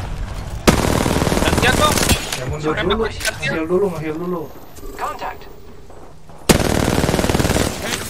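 Rapid automatic gunfire in the battle royale game Apex Legends comes in two loud, sustained bursts, with a player's voice talking in the quiet gap between them.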